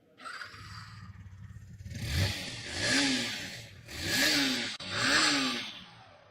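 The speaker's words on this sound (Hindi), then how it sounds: "एग्जॉस्ट नोट मैं इस बाइक का सुना देता हूँ" A 2025 Yamaha R15 motorcycle engine revs up three times in succession, each throttle blip rising and falling with a raspy exhaust note, loud and close.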